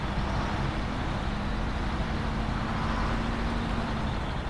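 A truck's wheels spin in SnowRunner while its engine holds a loud, steady, unbroken drone throughout.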